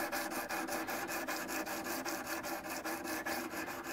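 Steady back-and-forth scraping of sandpaper rubbing on metal guitar frets, a fast even rhythm of strokes, close and continuous with no voices.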